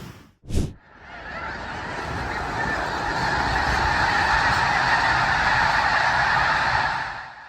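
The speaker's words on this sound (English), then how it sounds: "thousands of snow geese took flight over the Loess Bluffs Wildlife Refuge" Thousands of snow geese take flight over the Loess Bluffs Wildlife Refuge in Missouri. One loud, close honk comes first, then a dense, roaring chorus of honking swells and holds.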